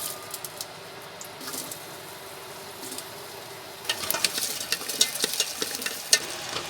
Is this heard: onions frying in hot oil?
yes